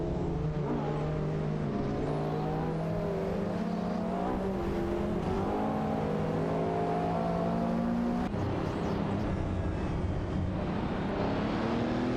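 Chevrolet Corvette race car engines in a racing video game drone and rev continuously, several engines overlapping with rising and falling pitch as cars accelerate, no talk.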